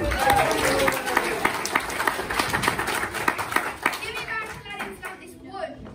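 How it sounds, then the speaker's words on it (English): An audience at an Aladdin pantomime claps, loud at first and then thinning into scattered claps, with voices and children's chatter mixed in. "Let's give her a round of applause for Litty Poo."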